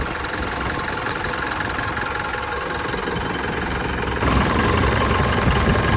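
An engine runs steadily at idle, then its rumble grows slightly louder and fuller partway through, continuing without any voices.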